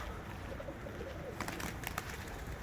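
Pigeons coo in a loft, soft throaty calls repeating at close range over a steady background hiss, with a brief burst of fluttering or rustling partway through.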